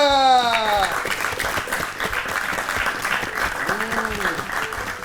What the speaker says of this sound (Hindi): हो जाए तालियां।